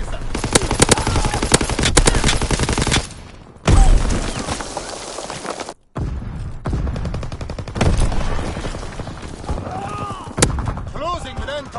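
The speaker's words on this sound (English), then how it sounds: "Fighter pilot inbound, strafing the target." Fighter pilot strafing run in a war video game, rendered as dense, rapid machine-gun fire with thudding impacts. It stays loud and continuous, breaks briefly twice, then resumes, and a voice speaks over parts of it.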